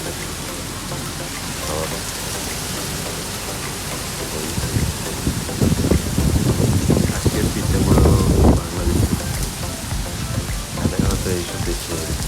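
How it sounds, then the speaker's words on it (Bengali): Rain falls on a morning in Bangladesh as a dense, continuous hiss, with heavier spattering bursts on nearby surfaces in the second half; a voice talks briefly over it. "আজকে বৃষ্টিটা অনেক সুন্দর"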